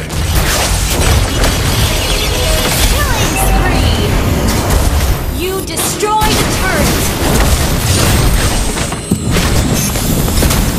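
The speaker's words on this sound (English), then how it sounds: "Your team destroyed the turret!" Turret destroyed in the mobile game Mobile Legends, heard as a booming crash amid dense, continuous battle effects and music, with voices throughout.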